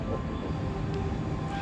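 A Kaligung passenger train rumbles into Comal station in Indonesia, a loud, steady low roar of wheels and engine close by with no voices.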